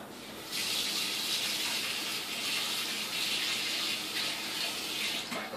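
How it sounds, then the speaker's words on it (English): Water from a kitchen tap gushes steadily over a whisk being rinsed, a loud, continuous splashing hiss that starts abruptly and runs about five seconds. "I wash my whisk off every time, too, so none of the particles harden up"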